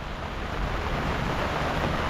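A local creek swollen after heavy cyclone rain rushes past in a dense, steady roar of flowing floodwater, loud and continuous with some wind buffeting and no talking.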